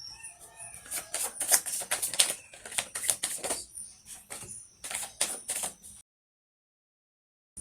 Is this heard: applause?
no